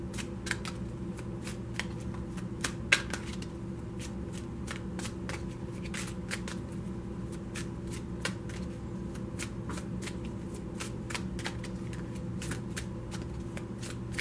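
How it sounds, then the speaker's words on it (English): Tarot cards are shuffled by hand in quick, continuous riffling bursts, soft and close, with crisp flicks repeating steadily throughout. "This is why I shuffle on camera, because it's really important."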